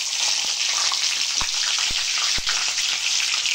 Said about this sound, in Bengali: এবার আমি ফুলকপি আর আলু একসাথে ভেজে নেব।